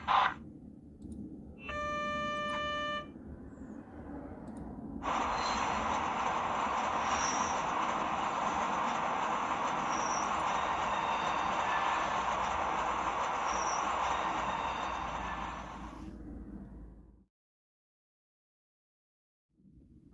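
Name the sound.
Märklin V60 H0 model locomotive running with wagons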